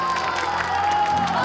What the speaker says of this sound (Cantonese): 大聲啲掌聲